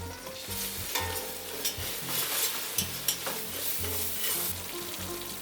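Flour being whisked into a hot pan of fat to make a roux, a steady close sizzle with repeated scraping whisk strokes against the pan and no voices.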